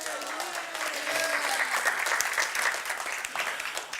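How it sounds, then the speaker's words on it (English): Audience applause from a seminar crowd: dense, steady clapping filling the room for the whole stretch, close and fairly loud, with no talk over it. "Oh, what I'll do for applause."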